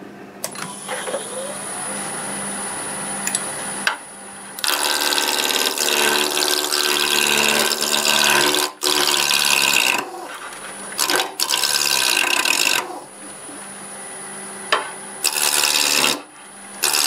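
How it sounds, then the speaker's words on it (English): Wood spinning on a lathe is roughed round with a spindle roughing gouge, giving loud, close scraping and rasping in long bursts broken by brief pauses over a constant motor whine. "Start with my spindle roughing gouge, we'll make it round"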